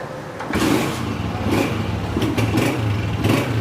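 A Honda 125 motorcycle engine runs nearby with a steady mid-pitched drone and a few brief throttle blips, loud and continuous with no talking.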